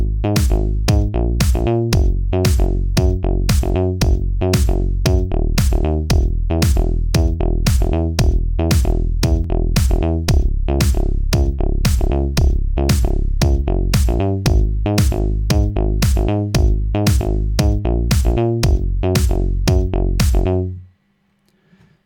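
Formant-filtered synth bass patch built in Serum, modeled on a song, pumping in fast, steady repeated notes with a punchy rhythm, loud and alone for about twenty seconds before stopping abruptly.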